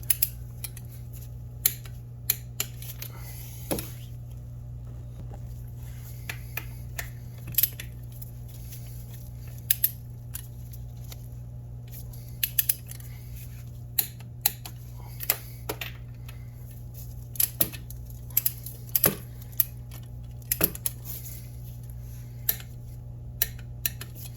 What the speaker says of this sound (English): I'm going to start torquing these 16s here to 35 foot-pounds.